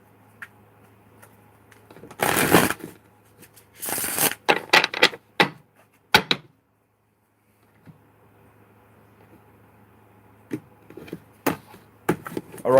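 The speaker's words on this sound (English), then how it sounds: "One more shuffle." A deck of tarot cards shuffled by hand close up, a few quick riffling bursts and sharp snaps separated by quiet pauses.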